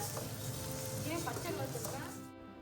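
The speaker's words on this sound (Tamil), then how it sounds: "கொஞ்சமாக எண்ணெய் சேர்த்துட்டு நான் இதில் வந்து வெங்காயம் வந்து சேர்த்துருக்குறேன்" Sliced onions sizzle and crackle in a little hot oil in a pan, a close, steady frying hiss with faint stirring, then fading at the end.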